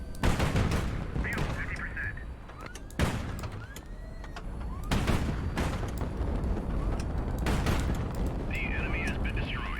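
Gunfire in the naval combat game HighFleet shooting down missiles: a series of sharp, loud bursts and booms spaced a few seconds apart, with synthetic beeping tones between them.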